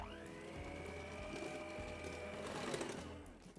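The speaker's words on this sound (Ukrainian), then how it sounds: "До м'якого вершкового масла додаємо цукор і збиваємо." An electric hand mixer runs steadily as it beats soft butter with sugar for halva-filled NY cookie dough, a continuous whirring motor drone with faint scraping through its few seconds and no talking.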